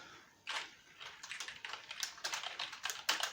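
Keys clack in quick, uneven bursts on a gaming computer keyboard, fairly quiet and close, with no talk.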